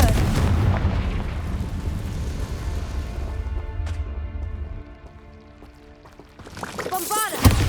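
A Confringo fire-blast spell goes off in Hogwarts Legacy, a loud booming explosion with heavy rumbling debris that fades into a ringing tail before a sharp crackling burst near the end.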